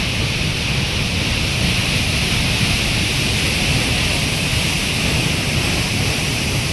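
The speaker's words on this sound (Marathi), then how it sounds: "एकदमच असा खतरनाक पाणी पडत आहे" Roaring waterfall at Kindri plunging about a hundred to a hundred fifty feet into a deep drop, a steady, loud, broadband rush of falling water with no breaks, filling the whole scene without voices.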